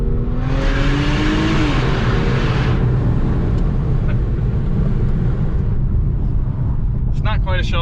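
Infiniti Q50 400 Red Sport engine revving and accelerating, a strong rising drone heard from inside the car, fading into steady road noise near the end.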